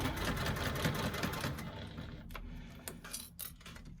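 A sewing machine stitches along a bag strap with steady, fast mechanical whirring for the first half, then slows into a few sparser clicks and short bursts, close up with no talking.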